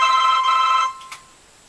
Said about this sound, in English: Well, that was my alarm.